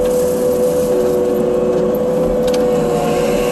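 A Rut Terminator brush cutter trims the edges of a farm field, a loud, steady engine drone with a constant hum and no talking over it.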